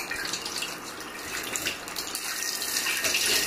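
Tap water runs steadily into a kitchen sink while utensils are washed during home cooking, a continuous broadband splash and hiss with no talking.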